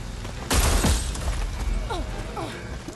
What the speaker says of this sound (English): I just threw the firecrackers and they went away